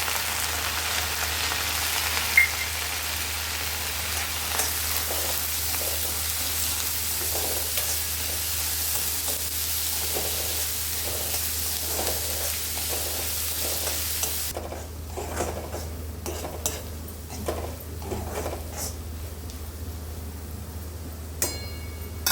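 Soaked, cooked chana dal stirred and fried in a pan for a wild-vegetable bhaji, giving a steady close sizzle with scraping stirs throughout; the frying quietens partway while the stirring carries on.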